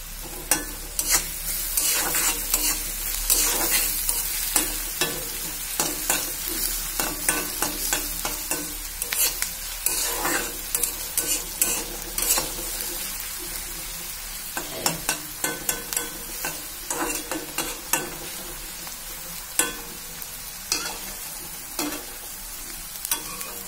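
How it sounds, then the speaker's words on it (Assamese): Onions fry in a pan over a low flame with a little sugar, a continuous close sizzle broken by frequent scraping and clattering as a spoon stirs them, with no talking. "পিঁয়াজখিনি ধুনীয়াকৈ ভাজা হৈ গ'ল"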